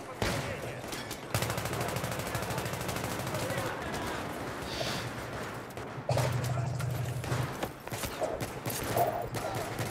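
Bursts of rapid automatic gunfire in Battlefield 3 co-op, with sustained rattling volleys that start and stop abruptly amid other battle noise, loud and close, and people talking over parts of it.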